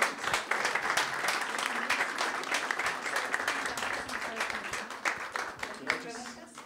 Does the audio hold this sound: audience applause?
yes